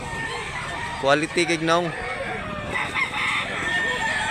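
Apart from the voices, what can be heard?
roosters crowing at a chicken market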